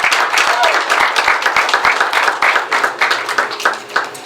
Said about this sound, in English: And a round of applause for our first ever Hall of Fame induction, Monique Gaxiola, please.